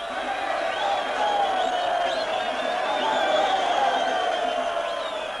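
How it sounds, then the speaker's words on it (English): A vast crowd in Rhodesia welcomes Mugabe home, a dense continuous roar of many voices, chanting and cheering at steady volume throughout. "The biggest crowd ever seen in Rhodesia welcomed home the candidate most feared by the whites"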